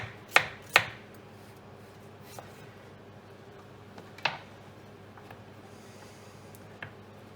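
Knife chopping potatoes into thin matchstick chips for onion bhajees: two sharp close cuts, then a few sparser, fainter knocks on the board against a quiet background.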